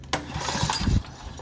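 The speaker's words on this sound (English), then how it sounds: "I can turn this engine over." Honda GXV 160 small engine cranked over by hand with the coil disconnected, so it will not fire: a short burst of chugging, uneven mechanical churning lasting about a second, close and fairly loud.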